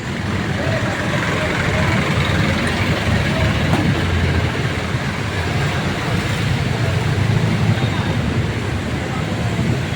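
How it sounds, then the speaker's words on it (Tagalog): Heavy road traffic on a flooded street in Pasay City near Terminal 3 during heavy rain, a dense continuous rumble of vehicles and water noise, steady and broadband, with faint voices mixed in. "Grabe yung traffic talaga."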